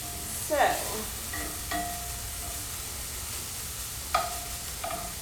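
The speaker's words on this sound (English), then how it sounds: "So we really want that ham to get nice and brown" Ham browns in a pan with a steady, even sizzle throughout, broken by a few scraping stirs and clinks of a utensil against the pan.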